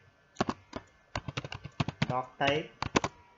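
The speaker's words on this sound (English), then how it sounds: "we'll type the code over here" HTML code being typed on a computer keyboard in Notepad, close clicky keystrokes in quick irregular bursts, with brief speech among them.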